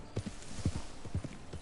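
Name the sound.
horse hooves in video game Red Dead Redemption II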